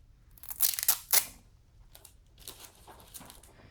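Tape is ripped off a parcel in two quick tearing bursts, close up, followed by quieter crinkling and rustling.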